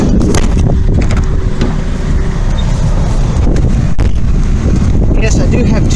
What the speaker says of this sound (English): The wind's blowing through, so don't help.